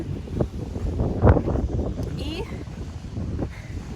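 Gusty wind buffets the microphone with low rumbling bursts while a person talks over it outdoors on Bulgaria's Sunny Beach resort in May.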